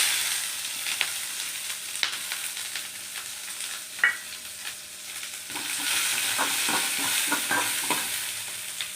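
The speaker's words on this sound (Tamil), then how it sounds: "வெங்காயம் நல்லா ப்ரௌன் கலரில் வதங்கிருச்சு." Onions and green chillies with a little cumin fry steadily in a pan, a continuous close sizzle broken by regular scraping stirs.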